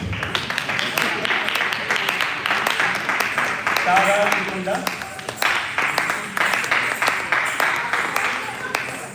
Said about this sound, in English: Please keep the applause coming.